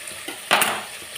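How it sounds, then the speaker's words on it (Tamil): Onions sautéing with rock salt in a pan for a fish curry, a soft sizzle with a brief louder scrape of stirring in the middle, close and short. "வெங்காயம் வதங்கட்டும்"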